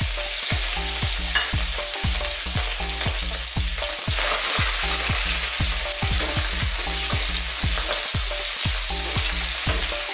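Shrimp sizzle loudly in hot oil in a pan for a Filipino garlic shrimp dish, a constant hiss broken by regular scraping stirs of a utensil against the pan.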